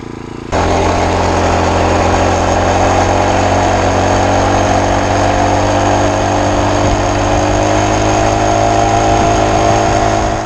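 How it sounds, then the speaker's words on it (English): A small 38cc four-stroke engine on a friction drive starts and runs steadily at a constant buzzing drone, loud and close, with no talking. "Not bad for a little engine."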